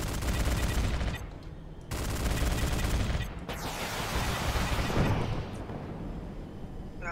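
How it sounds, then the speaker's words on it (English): Sustained heavy automatic gunfire from an aircraft gun run in a video game, loud dense bursts with brief pauses between them, roaring continuously over several seconds. "Black one on gun run."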